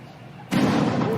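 A cannon fires at a baby shower, one sudden loud boom at about the half-second mark whose dense rumble carries through the rest of the moment, over a low murmur of voices in the background.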